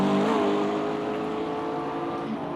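BMW M4 race car engine in a racing sim at Daytona, a steady high-pitched drone holding near full revs with a slight pitch rise early on, loud and continuous with no talk.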